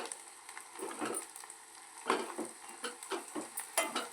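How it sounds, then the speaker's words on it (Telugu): Spice powder with ginger garlic paste frying in a pan, giving a soft, steady sizzle with scattered scraping and stirring clicks from a utensil, close and moderately quiet, no talking. "దీన్ని ఇలా వేపుకుంటూ ఉండాలి"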